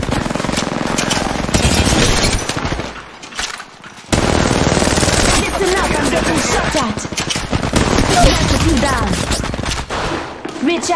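Rapid bursts of gunfire in the Apex Legends Mobile battle royale game, dense automatic fire running nearly throughout with a short lull, loud and close, with game voice callouts mixed in.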